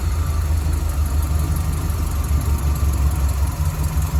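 Old car with about 32,000 miles idling after sitting for a while, carburetor needing a rebuild, a steady low rumbling idle close by with a slightly uneven pulse and no talk.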